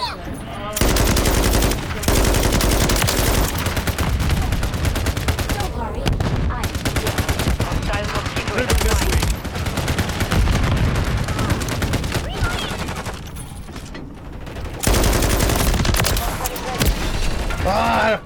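Dense, continuous automatic gunfire and explosions in the Modern Warfare 3 video game, loud and nearly unbroken with brief lulls, while a player talks over it.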